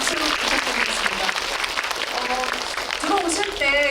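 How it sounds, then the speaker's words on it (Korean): Audience clapping fills the room, steady and full, while a voice speaks in Korean over it, at a film screening Q&A. "박수로 부탁드리겠습니다"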